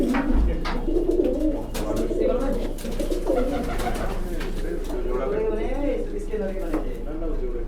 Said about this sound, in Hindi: ये नीचे टटीरे कबूतर